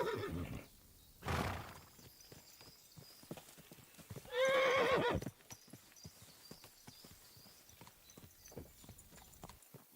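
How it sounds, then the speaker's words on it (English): In the video game Kingdom Come: Deliverance 2, hooves clop steadily on hard ground while a horse lets out two loud whinnies, the second longer and more drawn out. "that looks like a bloody expensive horse"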